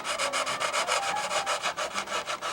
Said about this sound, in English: I'm going to put some sandpaper in there.